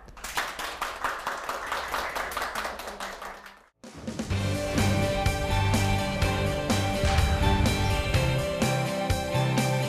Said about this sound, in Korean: 강연을 박수로 청해 보겠습니다